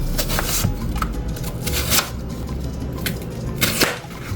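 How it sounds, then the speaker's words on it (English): A knife chops through an onion on a cutting board in a home kitchen, several crisp, close cuts and thuds at an uneven pace, with no talking. "we're gonna cut the onion in half, and we're gonna take away the outer layer"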